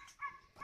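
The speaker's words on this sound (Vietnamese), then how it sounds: "Kia là chó ơi. Chó trông chim này." A dog guarding caged turtle doves gives two short barks, each a brief yip-like burst, heard close by against a quiet outdoor backdrop.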